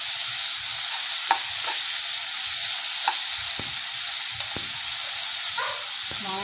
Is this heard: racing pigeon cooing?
no